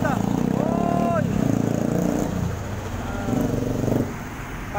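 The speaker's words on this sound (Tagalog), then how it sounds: "Laki ng motor." A big motorcycle on a Philippine roadside rumbles past close by, its engine droning loudly with rising and falling revs over steady traffic noise.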